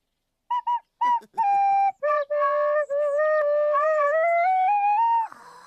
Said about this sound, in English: Then Andy Pandy and Teddy arrived to listen to Bilbo's whistling